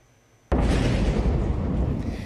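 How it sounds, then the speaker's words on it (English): A blast goes off in a border village in South Lebanon: near-silence, then a sudden loud explosion that swells into a dense, sustained rumble lasting to the end. "An explosion and smoke rising from a border village in South Lebanon."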